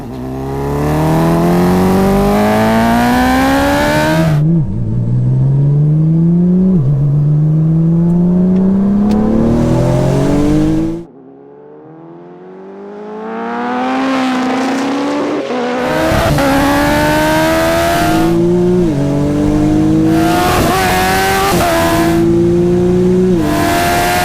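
A tuned Porsche 911 Turbo and a Kawasaki H2 hyperbike accelerating hard in a drag race, loud engines climbing through repeated gear changes. After a brief lull comes a distant rising approach, then more full-throttle shifting up close.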